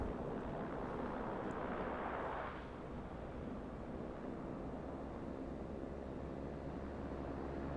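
A Beechcraft Baron 58 twin-engine airplane in a flight simulator, a steady loud droning roar with a broad rushing hiss that eases slightly after the first few seconds, continuous throughout.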